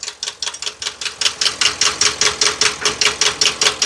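A car engine with a random misfire (P0300 fault), giving off a steady, rapid run of sharp ticking clicks, about four per second, close and fairly loud.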